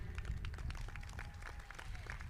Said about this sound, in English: one more round of applause as we get ready